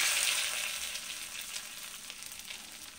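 Spices, including turmeric, Kashmiri chilli powder, red chilli powder and ginger paste, sizzle in a hot frying pan with a bright, steady hiss that eases slightly after the first moment.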